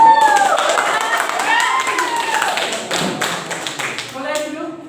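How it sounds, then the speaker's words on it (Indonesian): A classroom group claps for the winners of a physics teaching session, a brief burst of applause with a voice speaking over it as the claps trail off. "Tepuk tangan dulu buat yang menang."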